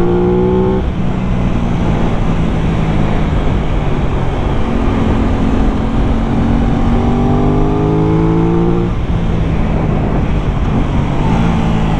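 An Aprilia RS 660 sport motorcycle ridden on a country road, its engine droning steadily and loud throughout with rising and falling pitch sweeps as the rider works through gears and bends, heavy wind noise underneath.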